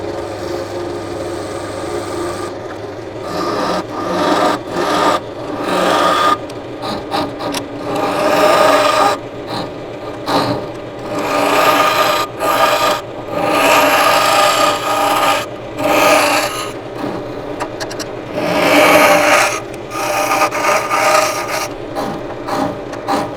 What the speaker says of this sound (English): Now I'm just using the spindle gouge on the side as a scraper,